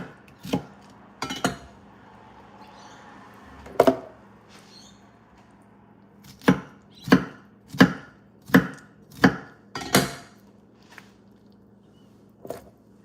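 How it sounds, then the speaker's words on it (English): A knife cuts through a very large homegrown pineapple on a board, giving a series of crisp, evenly spaced chops that land close and clear against a quiet room, a few scattered strokes at first and then a steady run. "I'm just going to cut this up into nice slices."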